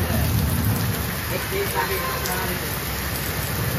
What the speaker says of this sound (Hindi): इतनी तेजी से बारिश हो रही है